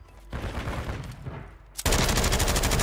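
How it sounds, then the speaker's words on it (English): Gunfire from a player shooting in the Fallout 76 video game, a loud automatic burst that starts abruptly, pauses briefly, then resumes as heavier, denser rapid fire for the last second, with no talking. "He was shooting bullets."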